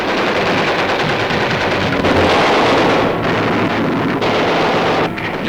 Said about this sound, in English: Marine runs to cover as enemy fire grows intense.